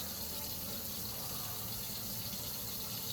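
Tap water running steadily into a sink while hands are washed with Dawn dish soap after handling raw meat, a soft continuous rush heard alone at low level.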